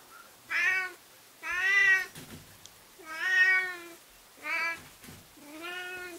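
A cat meows five times for food, each call long and drawn out with short pauses between, close and clear and with no talking.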